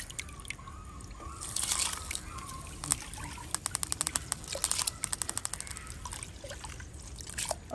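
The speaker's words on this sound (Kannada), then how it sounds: "ನೋಡಿ ನೀರು ಕಾದಿದೆ ಈಗ ಕುಚಲಕ್ಕಿಯನ್ನು ಹಾಕ್ತಾ ಇದ್ದೀನಿ" Parboiled rice tipped into a pot of hot water while cooking a Mangalorean lunch: quiet trickling and sloshing with bursts of close, rapid dripping and pattering grains, no voices.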